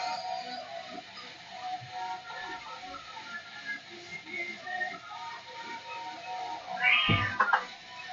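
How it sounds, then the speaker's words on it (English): A pet cat lets out a single short meow near the end, set against a steady low background hum and faint shuffling. "I don't know if you can hear the cat in the background, but there's definitely a cat in the background."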